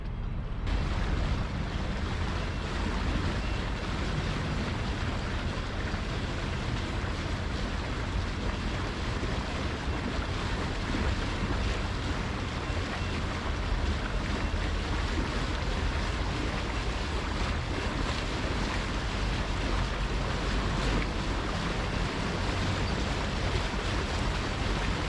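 A boat motors through a channel under a drawbridge at Charlevoix toward Lake Michigan, with a steady broadband rush of engine, water and wind, continuous and fairly loud throughout.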